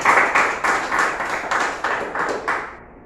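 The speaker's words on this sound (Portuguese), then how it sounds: "Você pode dar uma oferta de aplauso ao Senhor" Church congregation clapping in praise during a sermon: a loud, close wave of hand claps that comes in rhythmic surges about every half second, then fades away at the end, with no voices.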